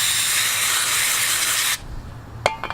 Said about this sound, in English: I'm gonna clean it with some brake clean